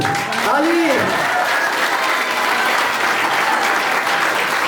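Wedding guests applaud right after a couple is declared husband and wife, a loud, sustained burst of clapping from a crowd, with a voice heard briefly at the start.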